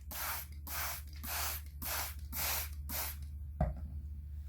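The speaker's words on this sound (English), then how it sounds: "So I sprayed it really good." Six steady bursts of a spray bottle misting vinegar and water onto carpet, each about half a second with brief gaps, close and fairly loud over a low hum, followed by a short knock and quiet.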